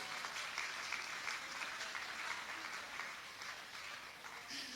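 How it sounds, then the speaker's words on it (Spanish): A comedy show audience applauds a volunteer called up on stage, a steady, moderately distant wash of clapping that carries on evenly for several seconds. "Un aplauso para este voluntario"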